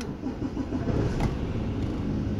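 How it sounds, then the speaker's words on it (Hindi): A Mercedes-Benz car engine starts via its push button, a short cranking burst that settles into a steady mid-pitched idle, heard close and alone. "अभी हम दोबारा इसको दबा के रखेंगे तो हमारी गाड़ी स्टार्ट हो जाएगी।"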